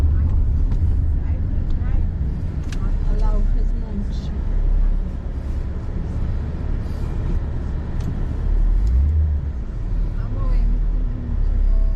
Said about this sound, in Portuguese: Aqui nós estamos saindo da residência da nossa filha Anne Rebeca, nos dirigindo à rodovia estadual.